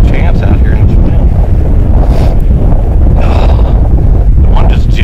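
Strong wind buffets the microphone outdoors on an open coyote-hunting stand, a loud continuous low roar with gusty swells throughout.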